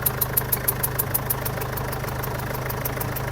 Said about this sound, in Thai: เสียงลมลอดขึ้นมาบริเวณนี้ บริเวณหัวฉีด